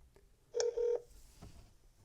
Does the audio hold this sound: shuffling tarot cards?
no